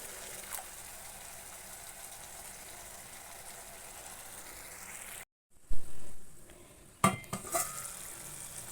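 Home-style potato gravy bubbling in a pot gives a soft continuous sizzle. After a brief silence, more water splashes in with a louder hiss and a couple of clanks of pot and utensil.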